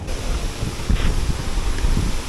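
Strong wind on Siargao island rumbles against the microphone in a steady, moderately loud buffeting, with no talking.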